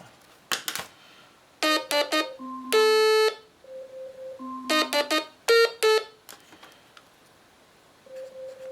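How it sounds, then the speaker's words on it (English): An Amazon Alexa smart speaker's timer alarm rings out in a room, a series of clear electronic chime tones in short repeating bursts separated by brief pauses. "That's our timer telling me that I'm out of time"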